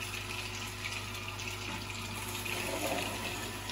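Steady rush of tap water running over carrots in a kitchen sink, a continuous, fairly close wash of flowing water with no talking.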